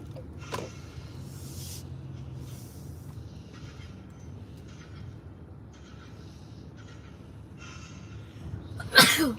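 A single sudden sneeze bursts out near the end of a quiet indoor stretch with faint background noise, loud and close, after a long hush.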